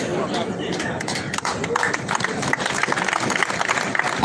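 A large crowd at an outdoor political party gathering claps and stirs, producing a dense, loud wash of hand claps mixed with voices and general crowd noise throughout.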